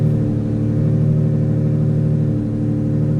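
Steady supercar engine idle humming with a deep, even rumble, holding constant and close with no voices.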